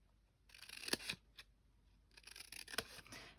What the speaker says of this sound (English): I'm going to cut either side of it a little triangle.